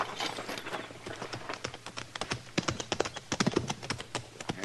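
Horses' hooves clop up and arrive in a radio drama scene, a dense run of close, uneven hoof strikes growing louder and busier toward the end, with no talk over them.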